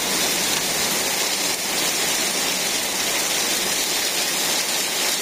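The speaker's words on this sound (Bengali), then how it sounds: "আর বৃষ্টি শুরু হয়ে গেছে" Steady, dense rain pours down in a village during a sudden rainy-day downpour, a loud continuous hiss with no breaks, no voices on top.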